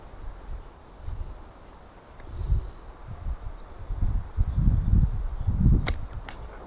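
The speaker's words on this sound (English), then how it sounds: "See how windy it is?" Gusty wind buffets outdoors in uneven low rumbles, growing stronger toward the end, with a couple of sharp brief snaps from a Han style mini bow being shot near the close.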